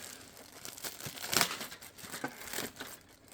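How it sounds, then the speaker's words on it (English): Original plastic wrapping on a vintage 1980s Monogram 1/48 F-16 Fighting Falcon model kit being opened, soft crinkling and tearing with a sharper rip near the middle, close and fairly quiet. "Be the first ones to open it since this model was put in the plastic."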